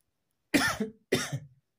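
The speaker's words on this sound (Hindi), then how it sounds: "थोड़ा सा खांसी हो गया" Two short, harsh coughs close to the mic, about half a second apart, then silence.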